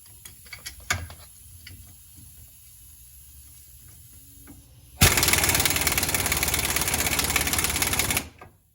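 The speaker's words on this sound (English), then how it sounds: "Might have to pop up the setting on my air tool here." A pneumatic air tool hammering on a Dana 44 axle part, a sudden loud continuous rattling burst lasting about three seconds after a few faint clicks and handling noises.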